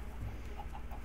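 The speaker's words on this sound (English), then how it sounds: "Some chickens over here." Chickens in Minecraft give faint, soft clucks, three short ones spaced evenly under steady background game noise.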